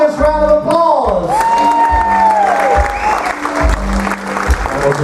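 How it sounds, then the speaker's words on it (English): A cruise-ship game show audience aboard the Carnival Breeze applauds and cheers loudly, with whistles and whoops over the clapping and a few voices mixed in. "Let's give them a humongous round of applause."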